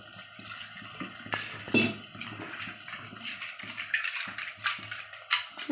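Tamarind is squeezed and dissolved by hand in a bowl of water while making a coconut milk fish gravy. Close, irregular wet squelches and soft sloshing splashes come in short uneven bursts.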